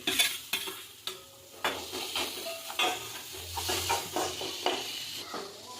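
Chopped tomato goes into a hot pan and fries with a steady sizzle. A utensil repeatedly scrapes and stirs against the pan in sharp, close clicks. No one speaks.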